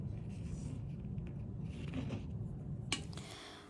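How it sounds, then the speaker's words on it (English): Scissors snip through vinyl sheet to cut out eyes for a white spray-painted ghost decoration, giving soft close scraping and rubbing cuts with a sharper snip near the end and no voice over it. "I then used some vinyl just to cut out eyes with my scissors."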